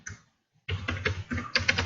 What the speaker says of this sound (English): which you enter in by either using the keyboard